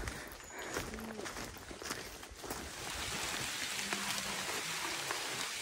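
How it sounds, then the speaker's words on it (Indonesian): Steady rain falls through a mountain hike in the Malabar range, a dense, even hiss of drops that grows heavier midway, with faint footsteps on the trail underneath. "Di hujannya kayaknya memang udah beneran hujan."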